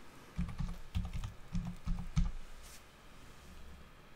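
Someone types a password on a computer keyboard in a short run of quick, soft keystrokes in clustered bursts. The typing is close and quiet and then stops, with no voices.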